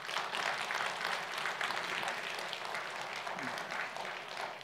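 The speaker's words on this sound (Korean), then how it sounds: "우리 시몬 찬양대 박수 한번 보내주시오." A church congregation applauds the Simon choir during a Sunday service, an even wash of many hands clapping that keeps going for several seconds at moderate volume.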